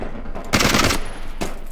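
Gunfire in the game Ace of Spades: a loud burst of automatic shots followed by a second shorter burst, close and harsh, with no talking.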